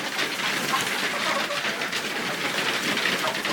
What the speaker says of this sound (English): Sounds like a rainstorm with them pecking on the ground.